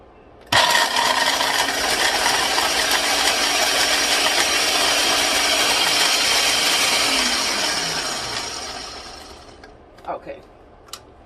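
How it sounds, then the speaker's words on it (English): A kitchen blender crushing nuts, a loud continuous whirring grind that starts abruptly, holds for about seven seconds, then winds down with a falling pitch, followed by a few short knocks. "So I'm going to put the nuts in the blender."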